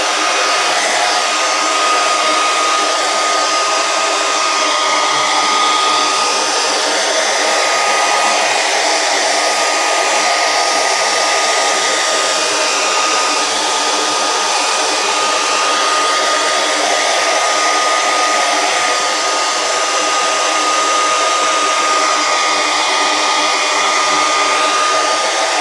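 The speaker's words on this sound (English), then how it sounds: "I assume they can hear us over the hair dryer" A hair dryer runs steadily and loudly throughout in a workshop during a leather chess board build, a continuous even whoosh with no pauses and no talking.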